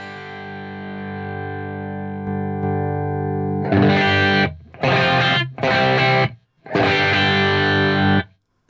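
An electric guitar through a tube amp turned down low, miked on a 4x12 cabinet with Celestion speakers, sustains a distorted chord, then plays several choppy, chorus-tinged bursts separated by short silences.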